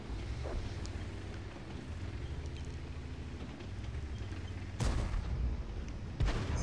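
Heavy tank cannon fire in World of Tanks, two booming shots with sharp onsets several seconds apart over a low rumbling engine drone.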